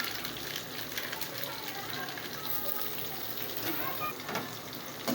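Pepper, cumin, garlic and curry leaves with turmeric sizzle steadily in hot oil as a tempering for rasam, a continuous close frying crackle with faint stirring and a voice talking over it.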